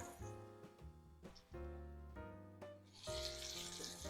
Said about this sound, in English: we're gonna go ahead and lay these lamb chops in here, like so. Just let them saute really nice on both sides